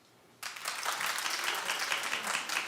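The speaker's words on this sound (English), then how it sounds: "Clap if you watched." An audience bursts into clapping after a brief quiet moment, a sudden loud wave of applause that holds steady to the end.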